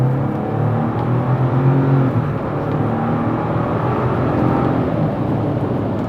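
A Ford Ranger Lariat FX4 pickup with the 2.7-liter EcoBoost V6 and 10-speed automatic accelerates, a steady, loud engine drone and road roar holding even throughout, heard from inside the cab without talk.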